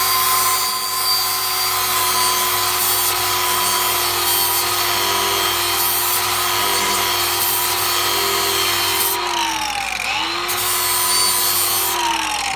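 A flap disc on a power grinder works the edge of an old push lawnmower blade, a loud steady abrasive whine with shifting pitch, dipping as pressure changes, continuous with no talk.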